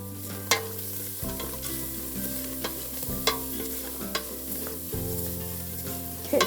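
Shallots fry in a pan with a close, steady sizzle. A utensil stirs and scrapes them at intervals, and a low background hum shifts in pitch every few seconds. Nobody talks.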